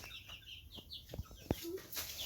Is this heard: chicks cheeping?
yes